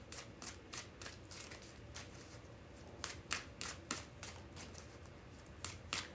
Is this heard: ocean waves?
no